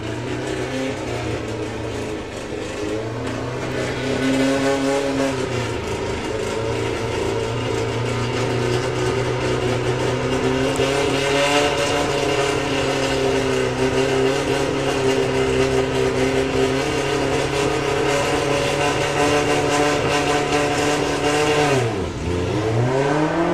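Volkswagen drag racing cars in a qualifying round at Santa Pod's Festival of Power: a loud, sustained engine roar that rises and holds, then drops sharply near the end and picks up again. No speech.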